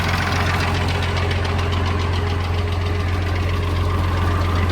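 A Farmall 1206 tractor engine idles steadily up close, a loud, even diesel rumble with a knocking pulse and vibration that holds unchanged throughout.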